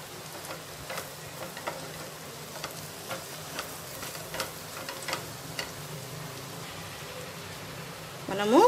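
Chicken frying in a pan on a medium flame while masala powder is added a little at a time and stirred in, giving a soft continuous sizzle broken by spoon scrapes and taps, with a louder scrape at the end.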